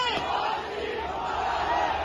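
Large political rally crowd at Minar-e-Pakistan chanting slogans in unison, a dense, loud roar of many voices sustained throughout.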